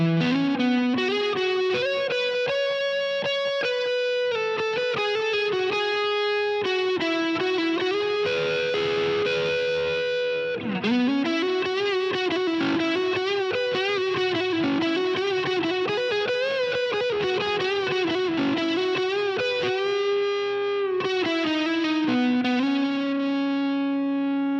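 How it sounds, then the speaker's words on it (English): Telecaster electric guitar played through the neck pickup with distortion and overdrive, giving a thick, sustained lead tone; continuous melodic lines and held notes ring out alone at steady level throughout. "this neck pickup can handle distortion and overdrive so well"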